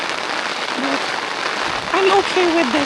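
Heavy rain pours steadily during an overnight mountain hike on Mt Tapulao, a dense close hiss of drops, while a person speaks briefly over it.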